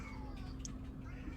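A cat gives a short, faint meow somewhere in the background, briefly breaking through a constant low hum with no speech.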